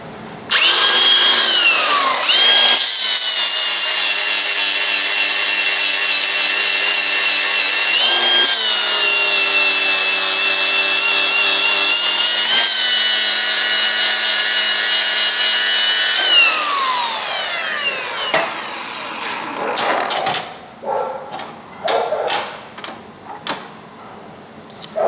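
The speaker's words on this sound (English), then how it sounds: "I'm gonna clean it with the grinder." An angle grinder cleaning laser-welded brass gives a loud, steady high-pitched whine whose pitch shifts a few times, then breaks into uneven scraping bursts as it is worked against the metal.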